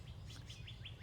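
A Hahn's macaw parrot gives a quick series of five or six short, repeated chirping calls at a steady rhythm, fairly faint against a low background hum.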